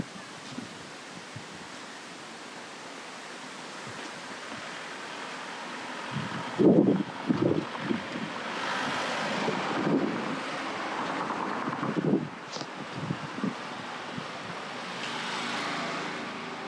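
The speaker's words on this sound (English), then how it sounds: "So yeah, wind is blowing. Like maybe you can hear the wind noise as well." Wind gusts buffet a microphone outdoors on a walking tour in Ooty, producing a low, rumbling rush that swells and fades irregularly at a fairly faint level.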